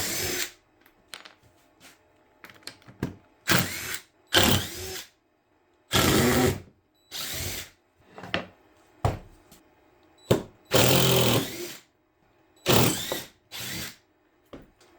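A CNC router bit plunges into a wooden groove while carving a Viking mask, giving loud whining bursts of cutting that start and stop in an irregular rhythm, with quiet pauses between passes.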